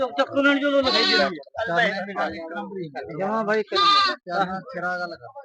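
Goats at a weekly livestock market bleat loudly and close by, a series of quavering, wavering cries in quick succession with short gaps, several calls overlapping, with no talk.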